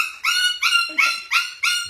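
A puppy with its mouth caught on a tripod whimpers in five close, loud, high-pitched yelps evenly spaced in quick succession, with no talking.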